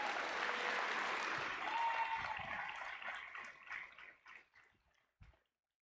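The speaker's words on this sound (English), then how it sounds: "let's give all our students a round of applause" Audience applause for students at a robotics championship: a dense wash of clapping from a large crowd that swells, then thins into scattered claps and a final few before stopping.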